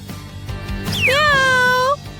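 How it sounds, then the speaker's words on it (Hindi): A cat gives one drawn-out meow, close and clear, lasting about a second over faint background noise. "ये एक बिल्ली है।"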